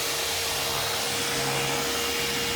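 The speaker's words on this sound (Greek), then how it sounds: "η σκούπα μου είναι ανοιχτή, που σημαίνει ότι ξεκινάω να τρίψω" A BULLE vacuum cleaner runs with a steady broadband whir, fairly loud and continuous with a faint tonal hum, heard alone without talk.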